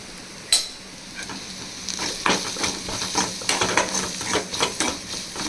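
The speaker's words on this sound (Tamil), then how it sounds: "கரம் மசாலா தூளோட நல்லா ஃப்ரை ஆகணும்." Fish cutlet masala frying with garam masala powder in a pan, a steady sizzle under repeated scraping stirs of a utensil against the metal, close and fairly loud.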